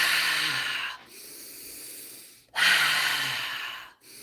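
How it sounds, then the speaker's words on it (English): Deep, slow breathing exercise during a live healing session, with two long, airy inhales or exhales close to the mic, each fading out before a short gap, no speech over them. "Breathe in a little bit more."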